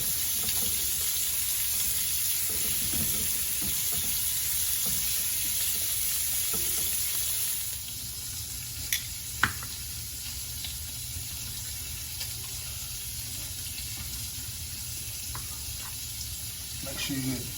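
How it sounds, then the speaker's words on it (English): Noodles sizzle and fry in a pan while being stirred, a steady close hiss with scraping and clanks of the utensil, a voice speaking over part of it. "make sure you stir the noodles"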